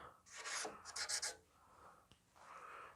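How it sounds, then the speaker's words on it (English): Marker tracing around holes on a metal plate, soft close scratchy rubbing strokes in a few short bursts with quiet pauses between. "We're going to trace some of these holes."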